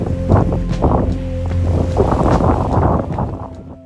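A sailing boat under way at sea on passage to Port Clinton, with steady wind and water rush, and a constant low engine-like hum running through the whole stretch.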